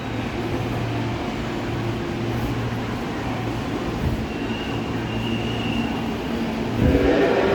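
A KRL commuter train pulls into platform 2 at Tanah Abang station, a steady close rumble of wheels and carriages with a thin high squeal partway through and a louder surge near the end.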